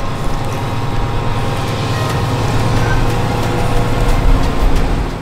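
A Fendt 1050 Vario tractor working for agricultural contractors, a loud steady low engine drone with rumbling and rattling that swells slightly while driving.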